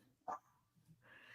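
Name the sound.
dog barking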